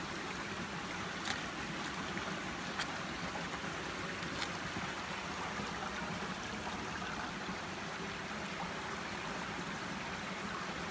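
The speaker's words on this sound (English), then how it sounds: "we can hear the stream chuckling away in the background." A stream of water flows steadily outdoors, a constant broadband rush with faint trickling detail, continuous and fairly quiet throughout with no voices.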